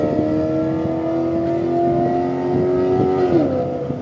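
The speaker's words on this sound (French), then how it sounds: "Maserati qui s'en va" Maserati sports car pulling away through a parking lot at a car meet in Osaka, its engine revving loud and steady with rich harmonic tone that rises and dips near the end as it drives off.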